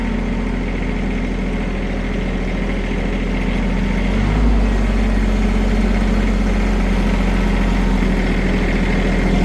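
A loader tractor with a front bucket, hauling firewood, runs steadily in rear-wheel drive, its loud, low engine drone continuous and close with a slight surge near the middle.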